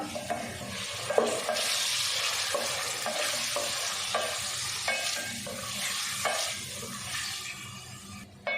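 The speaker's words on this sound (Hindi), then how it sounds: "इसको अच्छे से फ्राई कर लेते हैं। अब हम गोश्त डाल देंगे जो हमने बॉईल करके रखा हुआ था।" Boiled mutton sizzles and fries in ghee with freshly crushed garlic while being stirred for karela gosht, a steady close crackle with scraping stir strokes throughout and no talking.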